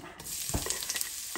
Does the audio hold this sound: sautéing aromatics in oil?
yes